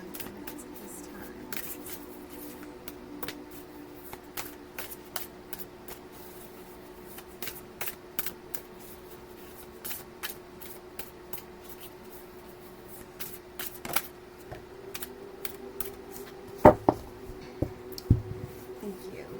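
Tarot cards being shuffled by hand, a run of soft riffling flicks and taps repeating irregularly throughout, close and fairly quiet, growing a little louder and busier toward the end.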